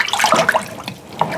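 Water is poured into a sour mash fermenter, about three gallons going in as a steady, close, splashing pour that runs the whole time with no voices.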